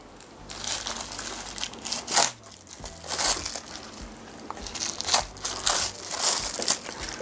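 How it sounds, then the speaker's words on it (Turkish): Plastic packaging bags crinkle and crunch close up, with irregular bursts of tearing and rustling as the wrapping is pulled off a gaming headset. "şu üst taraftaki poşetlerini de birlikte sökelim"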